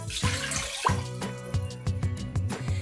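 One cup of water is poured into the bottom of an Instant Pot, a close, steady splashing pour with a resonant, hollow ring from the metal pot.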